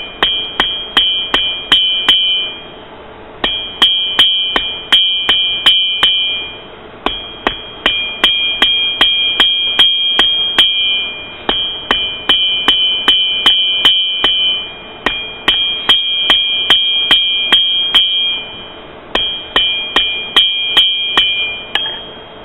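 A metal arrow socket is hammered flat on an anvil, with steady, loud, ringing blows repeated in quick bursts and short pauses between groups.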